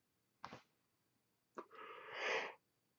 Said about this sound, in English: I'm so sorry about the yawning.